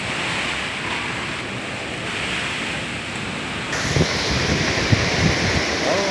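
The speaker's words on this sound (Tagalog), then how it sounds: "Oh, ang lakas ng hangin mga idol." Strong typhoon wind in Isabela roars steadily across the microphone, a loud continuous rushing with gusty buffeting that grows slightly heavier midway.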